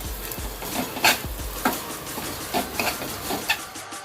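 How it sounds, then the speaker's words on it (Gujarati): A soft jaggery mixture for modak filling is stirred in a pan, giving a string of scraping, scuffing strokes at an irregular pace, fairly quiet and close, with no talk. "હવે આપણે મિક્સ કરી લઈશું બરાબર."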